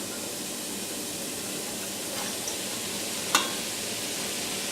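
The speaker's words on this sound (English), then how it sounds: "And there it is. There's the sizzle." Food sizzles in a frying pan on the stove during cooking, a steady close hiss and crackle that holds throughout, with one sharp tick partway through.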